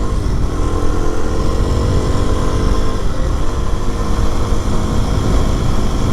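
A Kawasaki KLX230SE motorcycle cruising on back roads, its engine a loud, steady drone mixed with wind rush throughout, close and continuous with no voices.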